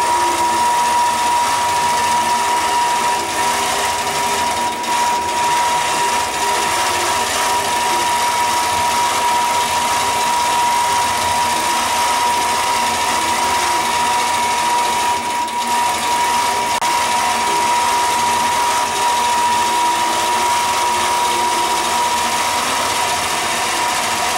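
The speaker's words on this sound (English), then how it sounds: "The machine is stitching the last pattern right now, the top of the pattern," Quilting sewing machine running an edge-to-edge pattern, a steady, loud mechanical whir with a constant tone and fast ratcheting clatter that continues unbroken throughout.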